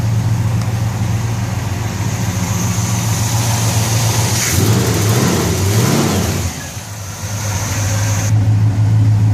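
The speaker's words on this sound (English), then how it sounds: "The exhaust sounds good, don't hear any leaks" A 1964 Chevelle convertible's engine and exhaust run steadily up close, with a strong low idle rumble and a brief swell of revving in the middle before settling back to a constant drone.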